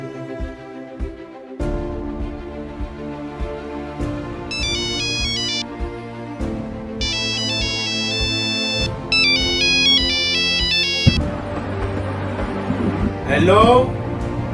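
A mobile phone ringtone plays a melodic electronic tune that repeats over several seconds, loud and close, during an urgent call in a Tamil short film, with a voice briefly heard near the end.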